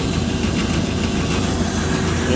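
A 2011 Amada HFA 250-W programmable bandsaw with a 1.25 inch blade, freshly rebuilt, running in a shop with a loud, steady machine hum and drone throughout, no talking.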